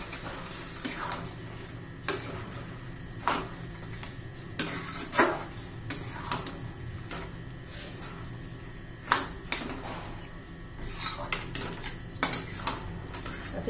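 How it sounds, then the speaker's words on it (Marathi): Cluster beans (guar) being stir-fried in a pan for a spicy green-masala vegetable dish, with a spatula clinking and scraping against the metal pan in irregular taps over a low background, no talking. "असं 1-2 मिनिटं चांगलं परतून घ्यायची गवार"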